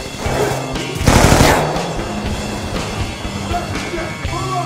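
Rapid automatic gunfire in the Black Ops 2 video game, a dense burst of shots that peaks early and then continues in quieter rattling bursts, with background game noise.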